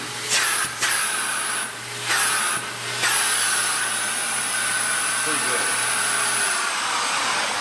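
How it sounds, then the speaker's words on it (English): A central vacuum system runs steadily as a constant loud whine, with brief dips in level early on, and a person speaks briefly over the noise. "these vacuums are made to work in central vac systems"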